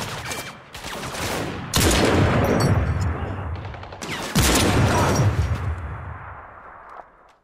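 Gunfire from the video game Crysis: rapid automatic bursts and heavy shots crackle loudly in two main volleys with rolling echoes, over a busy combat background.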